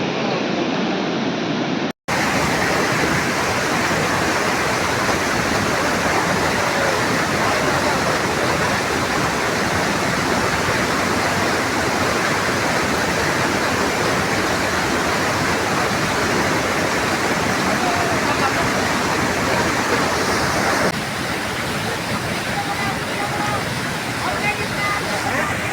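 Floodwater rushes through a valley in Rudraprayag after a cloudburst, a loud, unbroken roar of churning water that keeps going with only a brief cut near the start.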